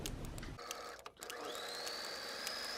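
Sewing machine running a half-inch seam on a cotton pillowcase, a steady mechanical whir that briefly stops and restarts, close and moderately loud with no talking.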